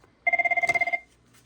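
ShoreTel IP480 desk telephone on a landline ringing once: a close, loud electronic trill of rapid pulses lasting under a second, then quiet.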